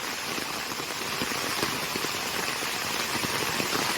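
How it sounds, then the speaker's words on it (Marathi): Heavy stormy rain pours down steadily on a cashew planting field, a dense, constant hiss with scattered louder drops pattering close by throughout. "बघा पावसाची किती मोठी सर आली आहे"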